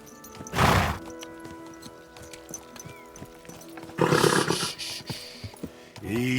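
A horse in Kingdom Come: Deliverance 2 gives a loud snorting whinny early, then another surge of neighing and hoof noise later, over a steady backdrop of game ambience and music.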